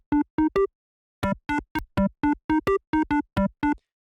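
Short, punchy synth plucks from a Serum patch with kilohertz distortion play a rhythmic melodic pattern, a few quick notes, a pause, then a steady run of bright, buzzy harmonic stabs alone, no voices.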